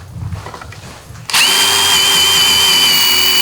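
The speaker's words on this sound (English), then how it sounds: "To prevent wood from cracking, we drill a pilot hole." After a moment of low background noise, a power drill starts suddenly and whines steadily at high speed, loud and close, boring a pilot hole into wood.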